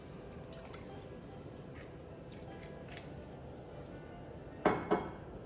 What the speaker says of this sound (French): ajouter le vinaigre